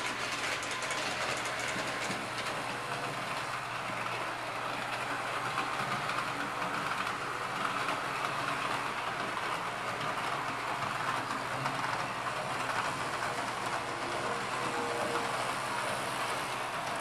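Two S-gauge model trains run on their track, giving a steady, continuous rolling rumble and clatter at moderate level, close by and unbroken throughout, with no voices.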